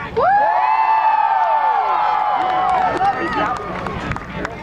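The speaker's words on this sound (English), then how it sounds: "Can I have one cheer for good luck?" A crowd at a medieval fair tournament raises a loud, sustained cheer with whoops and shouts, a leading voice rising above it before the noise tapers off.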